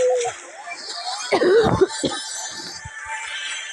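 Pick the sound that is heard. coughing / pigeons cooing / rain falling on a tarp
coughing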